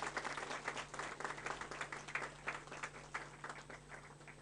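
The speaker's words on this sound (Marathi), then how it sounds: "टाळ्या वाजून आपण त्यांचं अभिनंदन करूया" An audience claps steadily at a school ceremony honouring teachers of a Zilla Parishad school in Jalindarnagar. Many hands patter together in a sustained, moderately loud round of applause, with no voices over it.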